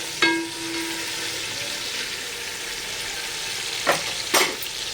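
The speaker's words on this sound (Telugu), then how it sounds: "ఆల్రెడీ వేసినవన్నీ బాగా వేగాయి." Vegetables for veg biryani fry in hot oil with a loud, steady sizzle, opened by a short electronic beep and later broken by two quick utensil scrapes against the pan.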